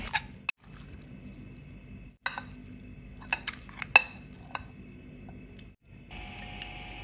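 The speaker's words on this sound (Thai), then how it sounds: "เอามาเทใส่จานของเราเลยจ้า" Spicy Thai pork sausage salad with minced pork being tipped out onto a plate, with a few sharp clinks and scrapes of utensils against dishware between quieter, rustling stretches, close up and fairly soft.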